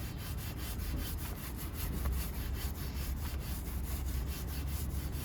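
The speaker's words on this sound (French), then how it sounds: "D'abord je prends ma petite brosse et je vais frotter au fond." A small brush scrubs deep inside a car wheel rim during a hand wash, a steady rapid back-and-forth scratching that stays close and loud throughout with no talk.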